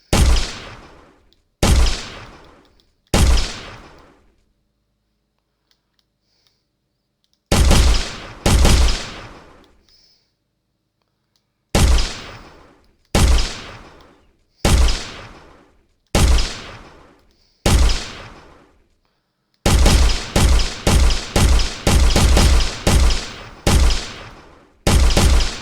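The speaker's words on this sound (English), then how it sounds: "when they start detecting the player, they'll start shooting" Paintball gunfire from enemy bots in an Unreal Engine game, sharp close shots fired in short clusters with silent gaps between, ending in a rapid burst of repeated shots.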